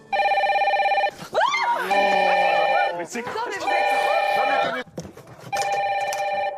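A telephone rings loudly in a French reality TV house, in several repeated bursts of a bright electronic bell tone separated by short gaps, while people talk over the pauses between rings.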